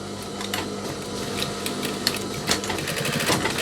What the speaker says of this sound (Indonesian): Di sini sama, kita menjahit kurang lebih di ujungnya.